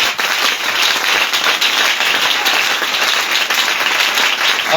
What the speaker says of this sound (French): est-ce qu'on peut acclamer pour le Seigneur?